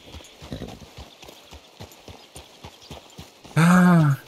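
Rapid, steady clip-clop of hooves trotting on a hard surface in the video game Red Dead Redemption 2, ending in a loud, close horse whinny.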